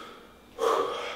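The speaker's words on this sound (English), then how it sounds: "As always, so again, deep breath in." A deep breath drawn in during a home workout, a single close, loud inhale rising sharply about halfway through and held to the end, after a quiet pause.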